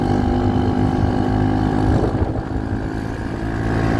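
Motorcycle riding near a dam after a dusty air filter was replaced, its engine droning steadily and close with a strong low rumble, slight easing midway, no voices.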